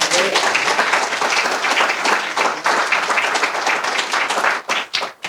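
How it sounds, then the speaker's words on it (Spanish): A church congregation applauds during a sermon, loud continuous clapping from many hands filling the room, breaking up and fading in the last second. "Denle un aplauso al Señor."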